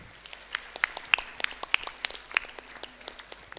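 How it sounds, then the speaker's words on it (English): Scattered, fairly faint claps from a small audience at a career guidance conclave, greeting the release of the KSRCT Career Guidance Academy logo; a few sharper individual claps stand out from a soft patter. "Give a big applause"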